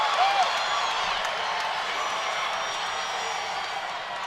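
Crowd cheering at a women's MMA main event, a steady broad roar of voices and applause that holds at moderate loudness and slowly fades a little.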